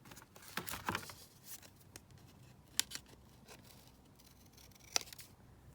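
Paper being cut with scissors at a desk, a few quick snips clustered early then isolated sharp cuts spaced out, close and fairly quiet with no speech.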